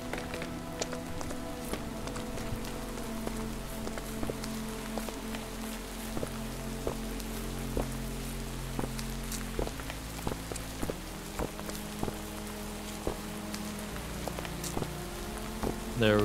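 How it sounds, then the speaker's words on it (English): Steady rain falling in the video game Minecraft, a dense continuous patter throughout with scattered sharp taps and clicks from gameplay layered over it. "There's the rain"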